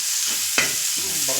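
Onions fry in a hot pan with an even sizzling hiss, a sharp clack of a spoon against the pan and light stirring scrapes, close and steady, no talk.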